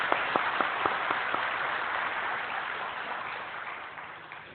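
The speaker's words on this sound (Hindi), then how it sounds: "ताली बजाइए।" Audience applause after a request to clap for two women, starting with a few distinct hand claps and swelling into steady, dense clapping from a crowd that slowly fades toward the end, with no talking over it.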